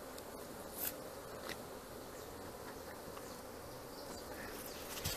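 Apis honey bees buzz in a steady, dense swarm drone during a hive capture and comb transfer into a box, continuous and close with no talk over it.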